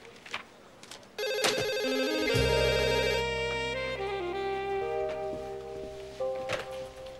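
A telephone ringing indoors in a newspaper office, a loud electronic ring that starts abruptly after a few soft thumps and continues steadily, with faint background movement.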